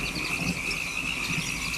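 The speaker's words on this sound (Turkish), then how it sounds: "Kurbağaları izlerim. Çıkardıkları sesleri dinlerim." Steady chorus of frogs croaking outdoors, a continuous overlapping drone with a high insect-like trill running throughout, no voices.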